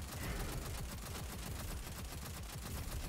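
Volatile rounds in Destiny 2 burst enemies apart in a dense, continuous rattle of rapid gunfire and small explosions, steady and fairly faint throughout.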